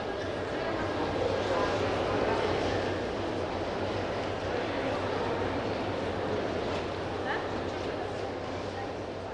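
A passenger train, the Lviv–St Petersburg service 190, is boarding at platform three of a station. A steady, loud rumbling wash of noise fills the scene, with indistinct voices mixed in.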